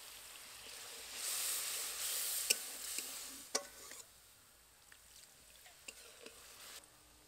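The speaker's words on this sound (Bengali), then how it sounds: "এবার এর মধ্যে পরিমাণ মতো জল দেব।" Water poured into a frying spice paste for a bitter gourd dolma gravy sets off a brief, loud hissing surge, then settles into soft sizzling with scattered clinks from the pan and utensils.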